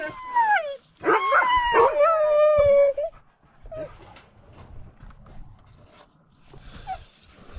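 Huskies out on a walk let loose a long, rising howl with wavering whines that lasts about three seconds. Softer yips and whimpers follow over quieter rustling, close and fairly loud.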